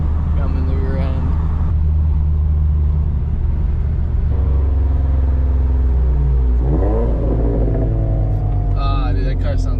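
A Toyota GT86 or GR86 fitted with an aftermarket MBRP or Remark exhaust drives by, giving a deep, steady rumbling drone with a few throttle blips and rising revs, loud and close throughout.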